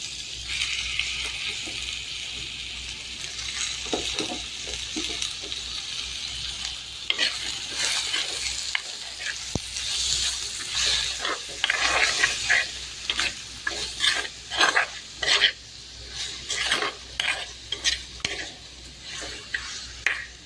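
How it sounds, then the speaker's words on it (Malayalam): Prawns stir-frying with softened onion in a pan, a steady loud sizzle with spatula stirring scrapes that grow busier and more rhythmic toward the end, no voices. "അപ്പം നമ്മൾ ഇനിയിപ്പോൾ ഈ കൊഞ്ചങ്ങോട്ടിട്ട് കൊടുക്കുകയാണ്"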